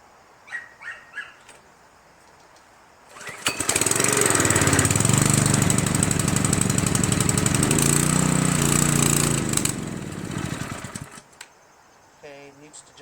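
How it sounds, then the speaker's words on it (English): A small Rato engine, a Chinese Honda clone, starts and runs on choke, a steady loud buzzing drone that holds for about seven seconds before dying away, with brief rustling and a few faint sounds before and after. "Okay, needs to just run a little longer on choke."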